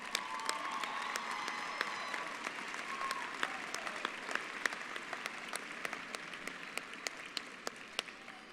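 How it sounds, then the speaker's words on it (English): Audience applause at a 2017 high school graduation ceremony, a steady wash of many hands clapping with sharp individual claps standing out, sustained and moderately distant throughout. "Let's give this year's recipients of the Scorpion Award a round of applause and"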